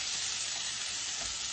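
Onion and garlic sizzle in butter in a pan, a steady, close, bright hiss of frying that holds evenly throughout without any voices.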